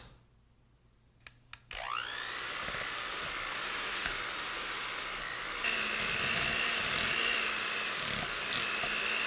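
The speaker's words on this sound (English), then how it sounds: "put in the electric hand mixer with the beater attachments, and then we're going to cream this up somewhat" An electric hand mixer with beater attachments creams cream cheese in a bowl, starting after a couple of clicks and then whirring loudly and continuously up close, its pitch shifting slightly as the beaters work through the mixture.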